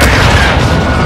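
An RPG explosion in Modern Warfare II, one very loud, close, rumbling blast that fills the whole moment.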